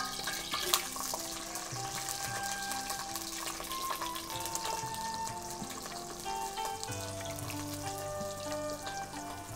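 Onions sizzle steadily in hot ghee in a pan while bhurji polao is being cooked, a continuous close frying hiss with occasional stirring clinks and no one talking.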